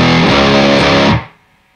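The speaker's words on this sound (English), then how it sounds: "Now what I'm doing there is I'm playing just open power chords." Distorted electric guitar plays a riff of open power chords on the low, thickest strings: loud and dense strummed hits for just over a second before the sound rings down and fades.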